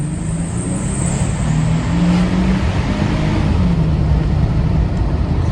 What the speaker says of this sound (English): Let's get a listen to this 6-cylinder.